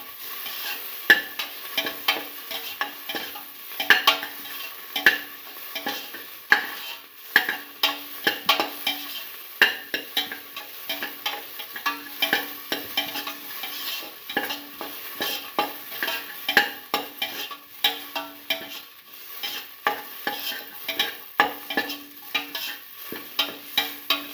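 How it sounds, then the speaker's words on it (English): Tomato pieces and garlic sautéing with salt in a pan: a continuous sizzle broken by frequent sharp scrapes and clinks of stirring, close and steady for over twenty seconds without talk. "keep on sauteing."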